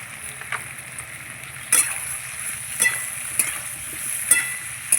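Potato, pointed gourd and chopped onion fry together in a pan with a steady low sizzle, broken by a few sharp scrapes of a stirring spoon.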